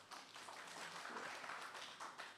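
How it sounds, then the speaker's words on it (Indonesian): A congregation at a worship service claps together in a dense, steady patter of applause, somewhat distant and soft, with no clear voices. "Tepuk tangan bagi Tuhan."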